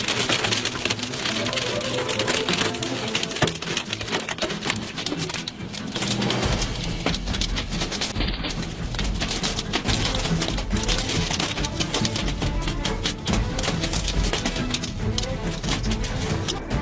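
Heavy rainstorm with hail in southern China, a dense, loud and steady roar of rain pounding surfaces throughout, with faint bird coos in the background.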